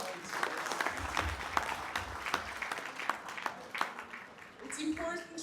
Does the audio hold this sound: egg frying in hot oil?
no